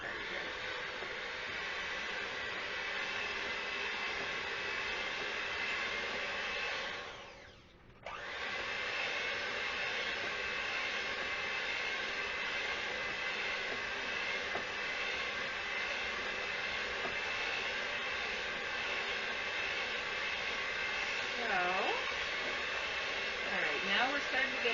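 An electric mixer creams butter and sugar for biscotti, giving a loud, continuous whirring drone close by that dips briefly once and then runs steadily on.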